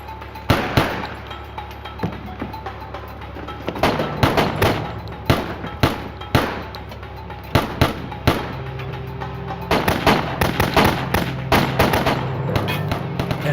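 Shots ring out in a cornered shootout with Pablo Escobar, sharp and close, arriving as scattered single cracks and short clustered bursts over a steady low background hum, with no one talking.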